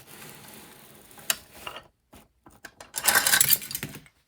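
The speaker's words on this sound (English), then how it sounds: "let's try turning the barn around in place" Wooden Lincoln Logs toy barn pieces knocking and clattering as the barn is shifted around, a few light clicks early, then a denser burst of rattling taps toward the end, no talk.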